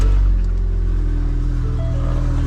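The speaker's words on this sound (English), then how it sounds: "Let's crank it up and see what we got." An old car engine runs close and loud with a steady, low, rough rumble after a brief opening surge, holding an even idle throughout with no talk.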